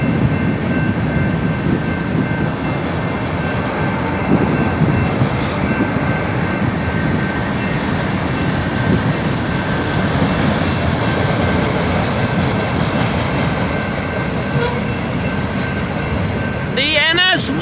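A Norfolk Southern freight train, the NS 121, passes on nearby tracks on Maumee Street, with a loud, steady rumble of rolling railcars that holds for the whole stretch and high wheel squeal near the end.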